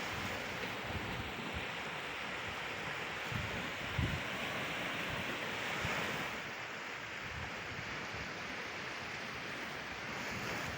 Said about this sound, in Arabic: سامعين الموج؟